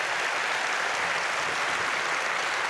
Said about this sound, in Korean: 이 은혜를 우리에게 주신 하나님 영광의 박수로 한번 우리 하나님께 올려드립시다